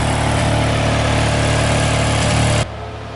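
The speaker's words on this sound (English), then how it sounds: "that's heavy equipment running right over there, which is kind of ruining the camping experience" Heavy equipment engine droning steadily near a campground at a KOA in Oscoda, Michigan, a loud, continuous low rumble that drops suddenly to a quieter level near the end, with no talking.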